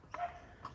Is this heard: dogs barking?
yes